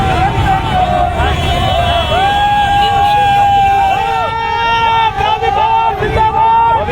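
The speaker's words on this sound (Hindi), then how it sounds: "बॉबी पंवार जिंदाबाद के नारे के साथ तमाम ये युवा देखिएगा।" A large crowd of young people at a political rally in Uttarakhand chants slogans loudly and rhythmically. The voices are close, dense and energetic, with wind buffeting the microphone.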